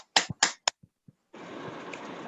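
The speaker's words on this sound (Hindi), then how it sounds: "जोरदार तालियों के साथ" Audience applause at a digital team success celebration: a few sharp, separate claps, then a short pause, then a dense, steady wash of clapping that carries on to the end.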